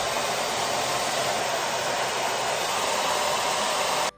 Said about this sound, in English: The blow dryer and the flat iron I'm using today are both by Bellamy.